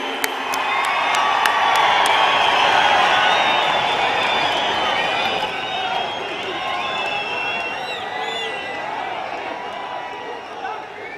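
Loud crowd cheering, whooping and applause from a large audience welcoming the Prime Minister at a public event in Jammu and Kashmir, a sustained roar that slowly eases over eleven seconds.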